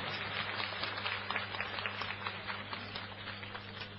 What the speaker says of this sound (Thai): ปรบมือดัง ๆ ให้คุณสมิงแตงเพชรด้วยครับ